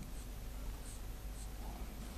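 Chalk or marker writing on a classroom board during an Arabic vocabulary lesson, a steady faint scratching with short repeated strokes and no voices.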